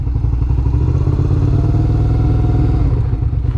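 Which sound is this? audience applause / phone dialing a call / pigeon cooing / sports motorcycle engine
sports motorcycle engine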